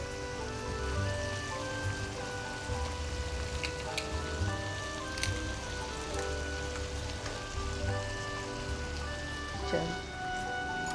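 Beaten eggs with masala sizzle and crackle steadily in a pan for a seasoned omelette (andey ka khagina), a close, continuous frying hiss with scattered pops over a steady tonal background.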